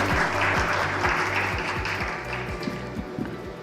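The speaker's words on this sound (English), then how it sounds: "A huge round of applause for our special guest." An audience at a business conclave and awards event claps in sustained applause that gradually thins out, loud and close, with faint music underneath.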